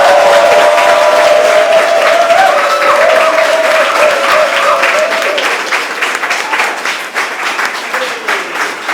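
A crowd at a poetry reading event breaks into loud, sustained clapping and cheering that gradually thins out toward the end, with a voice briefly heard over the start.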